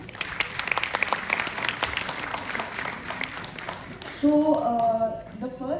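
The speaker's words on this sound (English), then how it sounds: "Let's clap for the teachers." Audience in a classroom or lecture setting applauds for their teachers, a dense spread of clapping for several seconds, then a voice begins talking over the fading claps.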